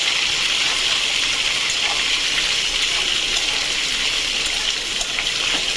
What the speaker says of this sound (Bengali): এবার এটাকে ভাজবো।